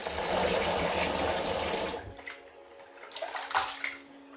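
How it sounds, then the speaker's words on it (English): Water pours and splashes loudly into a bowl of cooked breadfruit (ukwa) for about two seconds, then stops, leaving faint dripping and sloshing. "Pour a generous quantity of water."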